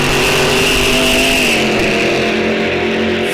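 Drag racing car launching off the line at Rock Falls Raceway during a test and tune session, a loud sustained engine roar that holds steady and then shifts pitch midway as the car pulls away.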